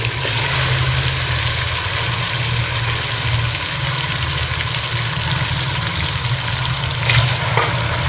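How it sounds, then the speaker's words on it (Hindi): Chicken pieces fry and sizzle in a hot pan with garlic ginger paste, giving a continuous loud crackle that is close and steady, with occasional stirring and no voices. "चिकन का कलर चेंज होने का हम इसे भून लेंगे"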